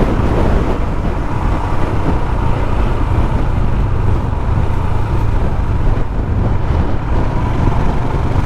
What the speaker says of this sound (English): It's still flipping windy up here.